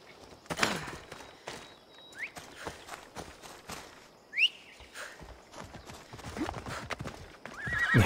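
A horse in the Assassin's Creed Odyssey video game gives a couple of sharp whinnies between clip-clopping hooves. The sounds are faint and intermittent, with a light gap between each one.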